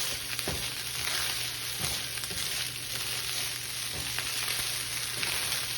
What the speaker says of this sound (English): Really main reason I'm keeping it moving right now is just to keep it from sticking to the bottom of my pan.